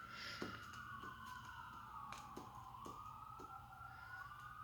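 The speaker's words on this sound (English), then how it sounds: "Sirens." A siren wails steadily in the distance, its pitch sliding slowly up and down over a constant background hum, with a few faint clicks.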